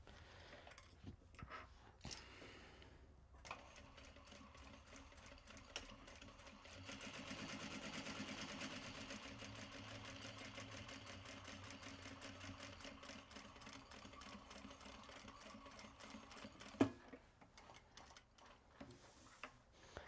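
Sewing machine stitching an upcycled obi tote, a steady rapid mechanical whir and ticking that runs for most of the stretch, close and even in level, starting and stopping at the ends.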